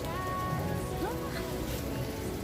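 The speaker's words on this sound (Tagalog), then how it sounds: "ang lakas ng ulan, umuulan ng yelo" Hail mixed with heavy rain pours down outdoors during a thunderstorm, a loud, steady wash of drumming and spattering across the whole stretch with no break, while faint voices sit low beneath the downpour.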